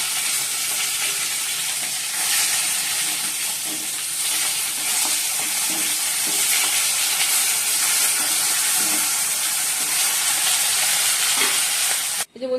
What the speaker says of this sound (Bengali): মাছটা ভেজে নিচ্ছি, ওখানে ভাজা হয়েছে